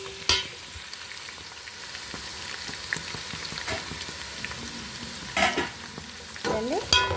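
Onions fry until brown for Andhra-style mutton biryani, giving a continuous, moderate sizzle with scattered popping crackles and a few louder spatula scrapes and clanks against the pan.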